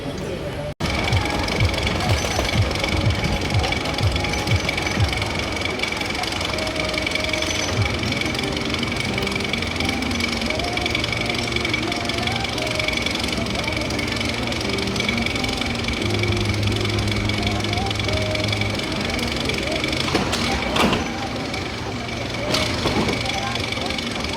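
Family roller coaster at Blackpool Pleasure Beach, somewhat rickety, giving a continuous loud mechanical rattle and rumble of the train on its track for the whole ride, with shifting tones and wind noise.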